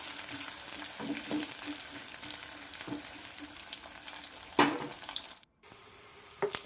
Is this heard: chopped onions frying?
yes